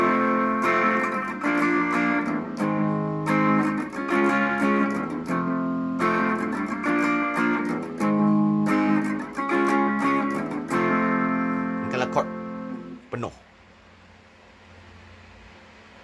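Electric guitar strums full chords through a distorted, overdriven tone, the rhythmic strokes loud and close for about thirteen seconds. A final chord is choked off, leaving a low hiss.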